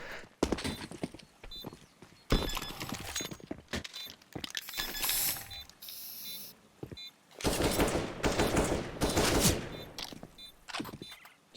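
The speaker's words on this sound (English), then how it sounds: "Putting a few bullets into the last player to make sure he's really dead." Counter-Strike gunfire on the Inferno map comes as repeated bursts of rapid shots between quieter moments, fairly loud and with no voice over it.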